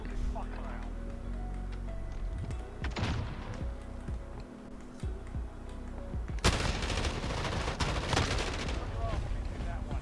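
Gunshots ring out in a gulag duel in the video game Warzone: scattered sharp shots, then a loud burst of rapid fire in the second half, with a person talking throughout.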